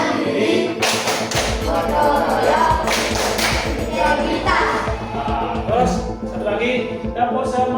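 A classroom of schoolchildren does a rhythmic group clapping chant, close and loud, with dense repeated hand claps and children's voices chanting along.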